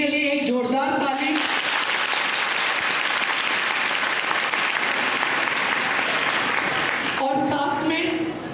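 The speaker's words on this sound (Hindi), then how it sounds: "एक जोरदार ताली" Loud, sustained applause from an audience at a college cyber crime awareness program, a dense wall of clapping lasting about six seconds, framed by amplified speech before and after.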